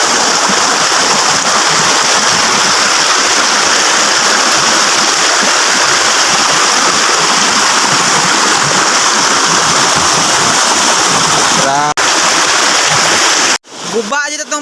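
Floodwater rushing in a strong, loud stream after heavy rain, a continuous roaring wash close by that cuts off abruptly near the end, with a voice faintly under it.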